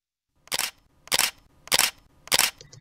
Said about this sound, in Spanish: hemos colocado el sonido del obturador de la cámara cuando hace la foto